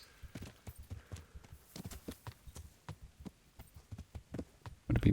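Horse hooves clip-clopping in Kingdom Come: Deliverance, a steady, fairly close rhythm of distinct hoofbeats that ends in a louder thud.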